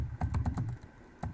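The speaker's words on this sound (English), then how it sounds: "I'm going to type enable access privilege exec mode." A command is typed on a computer keyboard: a quick run of about eight close, crisp key clicks, then a short pause before one more tap, with no talking.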